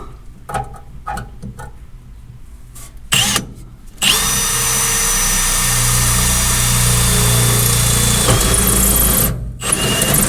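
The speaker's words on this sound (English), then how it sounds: "I just need to drill 1-inch hole right here." A power drill whines briefly, then runs steadily for several seconds, loud and close, boring a one-inch hole in an International Loadstar truck chassis, before stopping and restarting after a short pause.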